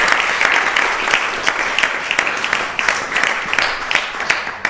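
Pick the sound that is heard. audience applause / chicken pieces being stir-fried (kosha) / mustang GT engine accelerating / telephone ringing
audience applause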